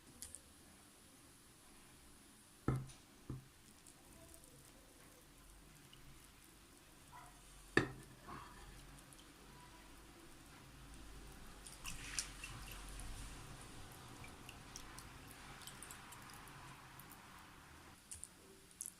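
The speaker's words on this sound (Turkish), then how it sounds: "Şimdi üzerine şerbetini dökeceğiz." Syrup is poured over a freshly baked yogurt cake, making a faint, steady wet sizzle and trickle with a few sharp clinks and taps, close and quiet.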